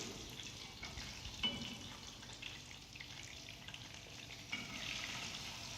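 Gulab jamun fry in oil with a quiet bubbling sizzle, stirred with occasional soft scrapes and taps, no talking.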